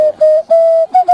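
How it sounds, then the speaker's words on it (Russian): Handmade ceramic folk whistle blown in several short, loud, clear tooting notes of steady pitch, separated by brief gaps. "Ой, это свистульки у вас такие?"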